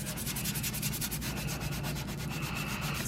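A stainless steel sink being scrubbed with baking soda and lemon, a quick rhythmic back-and-forth rubbing, close and steady, with no talk.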